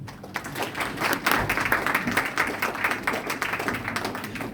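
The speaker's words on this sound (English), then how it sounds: "another round of applause for the rising star of storytelling" An audience at a public health event bursts into sustained applause, dense and loud clapping that holds steady from start to finish.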